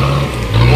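An offroad vehicle's engine revs on a dirt track, a loud, close droning hum that dips briefly then climbs again as the throttle opens, with no talking.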